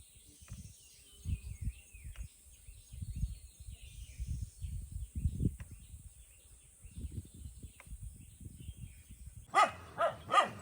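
Two farm dogs guarding a hut in a hill valley bark at strangers. Low, repeated barks come from some distance in irregular bursts over quiet outdoor ambience, with a few sharper sounds at the end.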